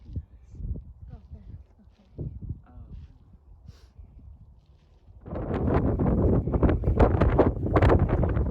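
Wind gusts across a mountainside at about 2,200 feet on Skiddaw, a loud, steady roar buffeting the microphone in the second half after quieter footsteps and talking.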